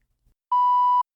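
A single steady high-pitched censor beep lasting about half a second, loud and clean against near silence.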